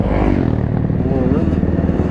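Two-stroke off-road motorcycle engine revving loudly and continuously up close, a dense steady drone with rising pitch swings, mixed with talk and clatter during an off-road ride.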